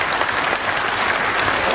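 Sustained applause from a hall audience at an all-Pakistan lawyers' convention, dense steady clapping filling the whole stretch with no pauses and no speech on top.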